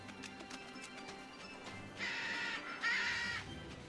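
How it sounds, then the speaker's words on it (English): A bird caws twice in a video game, two short bursts at moderate volume standing out over steady background game music and ambience. "Annoying bird."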